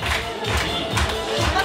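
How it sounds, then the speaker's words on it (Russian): At a kids' festival, the audience bursts into short, lively applause and cheering, a dense clatter of clapping with raised voices for under two seconds. "Аплодисменты!"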